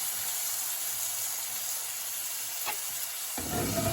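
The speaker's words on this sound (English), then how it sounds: "I'm just going to stir fry some in here." Fine-grain bulgur stir-fries in a pan with a steady, dense sizzle and hiss, and a stirring scrape near the end makes the frying louder.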